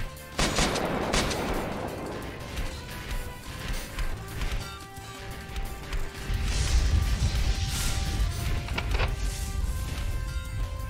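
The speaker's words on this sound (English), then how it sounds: "Oh, he's got double barrel shotguns." Double-barrel shotgun blasts from the video game Fight Crab, a few loud sharp bangs and crashes spread over the clip, followed by a heavy rumbling low-end impact and clattering, with no talk.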